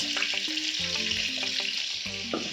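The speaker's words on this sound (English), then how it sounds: "That sizzle gets me every time." Gizzard meat sizzles steadily in a hot frying pan, a constant loud hiss with brief clinks and scrapes as the pieces are spread out.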